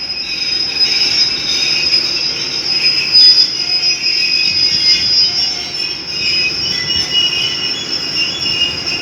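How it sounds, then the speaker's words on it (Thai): An Alsthom no. 4123 diesel train, rapid train 133, pulls out of Krung Thep Aphiwat Central station in Bangkok, its wheels giving a loud, sustained high-pitched squeal over a low rolling rumble. "ตอนนี้กำลังค่อย ๆ ออกตัวนะครับ สำหรับขบวนที่ 133 นะครับผม"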